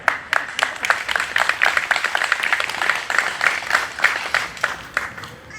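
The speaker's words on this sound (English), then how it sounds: "Fairhaven does deserve a round of applause" Outdoor crowd applause at a Pride ceremony in Fairhaven, a steady patter of many hands clapping at moderate loudness, continuous and fairly even for several seconds without talk.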